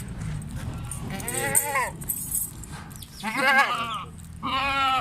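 Goats bleat several times in wavering, nasal calls close by on a goat farm, with farmyard noise and low talk in between.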